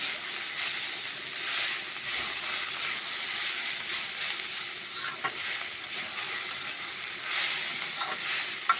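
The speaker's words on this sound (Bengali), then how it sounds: "এই ধনেপাতাটা দিয়ে আমি আর একটু ভাজা ভাজা করে নিচ্ছি" Bottle gourd peel and coriander leaves fry in a pan with a continuous close sizzle and hiss. Occasional stirring scrapes and soft clicks break in, and no one speaks.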